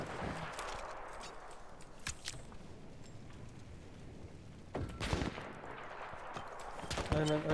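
Gunfire in the Battlefield V Firestorm battle royale mode: scattered, mostly distant shots crackle in irregular bursts, with a few sharper nearer cracks, over low background noise.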